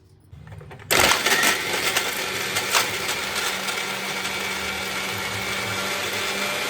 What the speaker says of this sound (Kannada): ಇದನ್ನು ನಾನು ಇವಾಗ ಗ್ರೈಂಡ್ ಮಾಡ್ಕೊತೀನಿ.